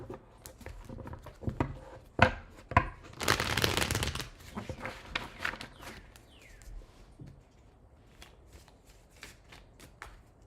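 Tarot cards are shuffled by hand in quick riffling bursts and taps, loudest around the middle as the deck is bridged, then trailing into lighter, sparse card flicks and slides nearby.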